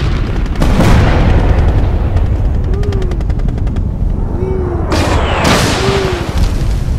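Toy military troops fire loud, booming explosion effects over a constant rumbling, rattling background of gunfire and rotor-like noise, with two or three sharp blasts standing out.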